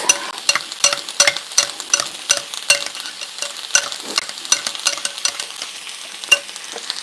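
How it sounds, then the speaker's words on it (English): Cabbage and onion being stirred in a frying pan for Irish colcannon: repeated scraping strokes of a utensil against the pan in a quick rhythm over a soft sizzle, close and fairly loud, with no talk. "we're stirring up this cabbage and onion"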